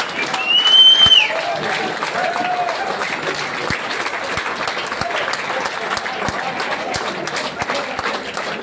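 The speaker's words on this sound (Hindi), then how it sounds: "सो प्लीज वेलकम सर, जोरदार तालियां होनी चाहिए।" A crowd at an event gives a loud, sustained round of applause to welcome a guest. The steady clapping is close and continuous, with a brief whistle near the start and some voices underneath.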